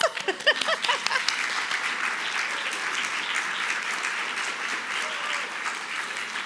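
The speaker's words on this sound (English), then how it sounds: "Give him a round of applause." Guests at a volunteer recognition luncheon applaud an honoree. A few scattered claps quickly swell into steady, sustained applause from a sizable room, heard at a moderate distance.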